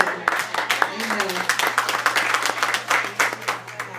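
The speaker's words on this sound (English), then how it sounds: "Let's give ourselves a round of applause." A church congregation in a worship service claps steadily for several seconds, a dense patter of many hands with a steady hum beneath.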